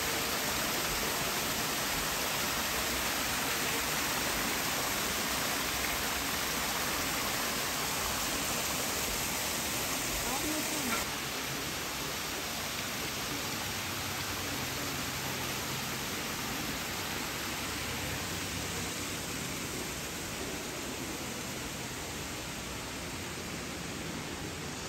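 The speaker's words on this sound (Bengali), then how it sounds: "এখানে এত সুন্দর একটা ঝর্ণা, ঝর্ণার রিমঝিম শব্দ এত ভালো লাগতেছে শব্দটা।" A garden fountain at Kew Gardens splashes water in a steady, dense rush that continues evenly throughout with no voices.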